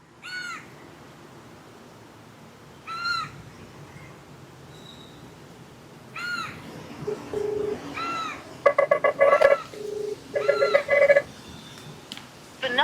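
Phone keypad tones beep in quick bursts as a call is dialed, while crows caw loudly several times nearby against a quiet outdoor background.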